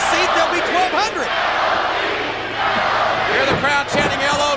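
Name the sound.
wrestling crowd chanting LOD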